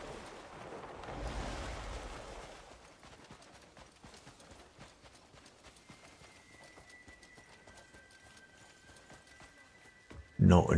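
Hooves clip-clop from a horse in the video game Crimson Desert, with a louder rustling burst early on and a sharp loud clatter at the very end.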